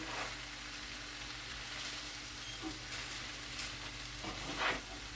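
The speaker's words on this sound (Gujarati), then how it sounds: "એ બધા જ નૂડલ્સ હવે એડ કરી દઈશું. અને એની સાથે જ આપણે હવે આ પનીર પણ એડ કરી દેવાનું છે બધું." Noodles and paneer sizzle and fry in a pan with a steady, soft hiss, interrupted now and then by light scrapes as the mixture is stirred.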